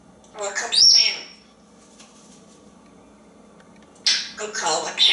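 A parrot makes short, bright squawking calls in two bursts separated by a quiet gap, recorded close indoors.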